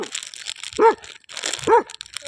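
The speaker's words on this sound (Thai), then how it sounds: "จะเห่าทำไมเนี่ย" A dog barks twice, a second apart, loud and close, with crinkling and rustling sounds between the barks and no voices.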